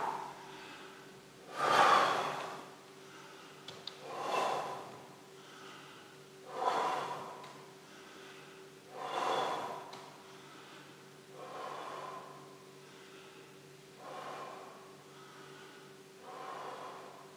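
Exercise breathing: a person alternates inhaling and exhaling in slow, regular, audible breaths, about seven in a row spaced a couple of seconds apart, close and quiet with no talk.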